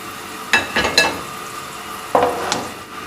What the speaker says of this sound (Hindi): ये देखिए कितनी अच्छी सी हमारी प्याज ब्राउन हो गई है।